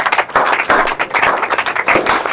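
An audience claps vigorously at a public-speaking motivation session, a close, loud and continuous burst of many hands clapping throughout.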